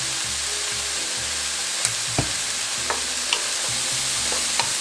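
Onion fries in a pot with a steady crackling sizzle, punctuated by several sharp knocks and scrapes of a utensil stirring against the pot.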